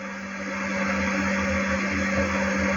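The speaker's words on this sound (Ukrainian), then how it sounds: "блендером погружним ось так я її перебила" A steady motorized whir of an immersion blender pureeing currants, running continuously at close range, with a constant pitched hum and no talking.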